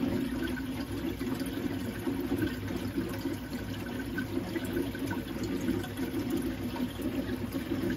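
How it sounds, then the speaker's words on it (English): Water bubbling and gurgling steadily through a reef tank sump manifold as trapped air is pushed out, a continuous soft, close wash of churning liquid with no voices. "Once this stops bubbling,"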